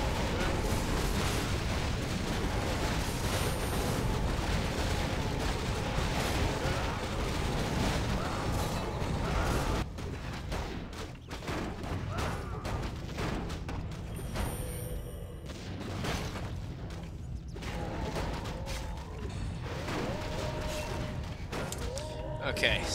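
Missiles firing and exploding in Survival Chaos, a long stretch of heavy rumbling barrage and booms, then a thinner mix of scattered blasts, mechanical clanks and battle noise with voices talking over it.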